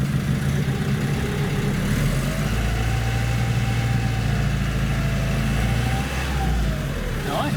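Iveco Daily van diesel engine idling after its first start in ten months, a steady low rumbling drone with faint voices in the background.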